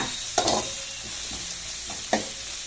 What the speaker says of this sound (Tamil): பெரிய வெங்காயம் இந்த மாதிரி நீள நீளமா அரித்து வச்சு இதுல போட்டு நல்லா கொஞ்சம் எண்ணெய்க்குள்ள வதங்கணுங்க